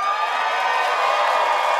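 Studio audience at a late-night comedy show breaking into steady applause and cheering, a dense, even wash of clapping and whoops lasting the whole moment without letup.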